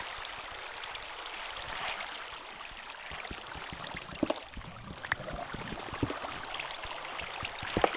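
Water flows in a video game, steady soft rushing like a stream, faint and continuous with small splashy ticks scattered through it.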